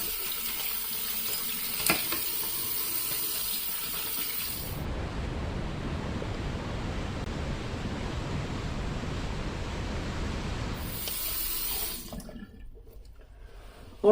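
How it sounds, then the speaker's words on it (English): Running water from a bathroom tap while rinsing off after a shave, a steady close rush of splashing that holds constant for several seconds and then cuts off. "let me rinse off real quick"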